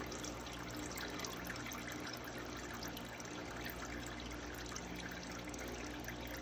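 Engine oil drains from a removed Ford Focus oil filter into a catch container below, a steady soft trickle and dribble of liquid running continuously and fairly quietly with no talk over it.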